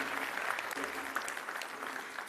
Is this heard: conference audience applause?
yes